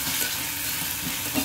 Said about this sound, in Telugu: మనకి కట్ చేసి పెట్టుకున్న ఉల్లగడ్డ ముక్కలు, అదేనండి బంగాళదుంప ముక్కలు, మునక్కాయ ముక్కలు కూడా వేసేసి ఒక్క సెకండ్ ఫ్రై చేసేద్దాం